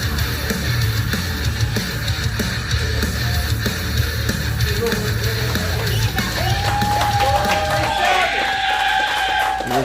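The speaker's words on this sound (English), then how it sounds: "The crowd letting their appreciation be shown for Jay Savage and the effort he put into this match" A wrestling crowd at a KCXW Saturday Slam show cheers and yells for Jay Savage after his match, a dense continuous roar of voices with a few whistles near the end.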